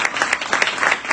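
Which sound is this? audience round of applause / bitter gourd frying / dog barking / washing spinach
audience round of applause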